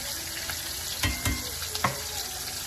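Breaded catfish frying in a pan with a steady broadband sizzle, a few louder crackles and pops rising over the constant hiss, no talking.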